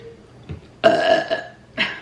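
A woman lets out a loud, close burp with a short second burp after a pause, both clear and alone, with no talking over them.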